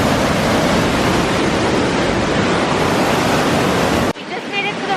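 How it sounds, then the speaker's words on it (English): A strong mountain river swollen by rain rushes loudly as a dense, continuous roar close by, then drops sharply near the end, leaving softer water noise with faint higher sounds. "I don't know if you guys can hear it, but there's a full-on river right now."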